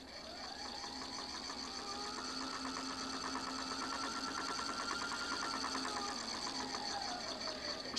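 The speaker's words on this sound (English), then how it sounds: "around the bobbin, and wind. The bobbin will stop when full." A Husqvarna Viking Designer 1 sewing machine winds a bobbin, a steady, fairly quiet mechanical whir with a faint rhythmic ticking that holds even throughout, with no talking.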